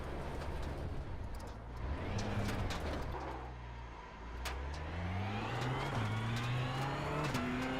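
A race car engine in the sim racing game iRacing revs and climbs in pitch through gear changes, loud and close with a brief dip midway and no talk.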